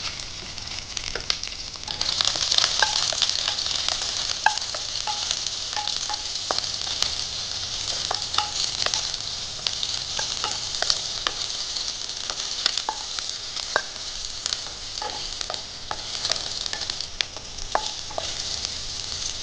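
Chopped onions frying with mustard seeds and curry leaves in a pan, a continuous crackling sizzle with frequent small pops and stirring clicks, close and steady.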